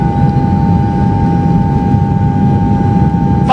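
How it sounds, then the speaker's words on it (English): A private jet in flight gives a loud, continuous engine drone with a steady, even tone and low rumble throughout, with no talking. "Finally, and I could fly to the sky with this private jet."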